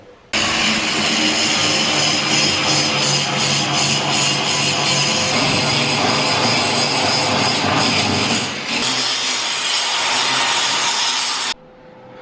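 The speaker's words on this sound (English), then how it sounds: "I'm gonna grind them down so they're somewhat flatter." An abrasive grinder rasps continuously against cut metal edges, flattening them, a loud, steady scraping roar that briefly dips near the end before cutting off abruptly.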